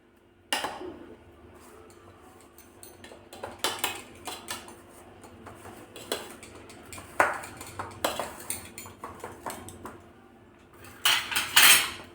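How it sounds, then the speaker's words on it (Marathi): A spoon tapping a sweet vermicelli barfi mixture in a metal tray: irregular clinks and metallic taps, sparse at first and quicker near the end, with faint kitchen background. "मी दुसऱ्या चमच्याने याला टॅप टॅप करते"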